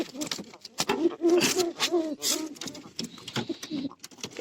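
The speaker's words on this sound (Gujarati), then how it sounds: "કબૂતરો છે ને" Pigeons coo nearby in repeated low, rolling calls, joined by sharp fluttering and scuffling sounds.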